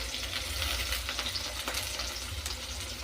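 Sliced onion sizzles in hot oil in a pan, a steady close hiss with faint crackles and occasional stirring, no voices.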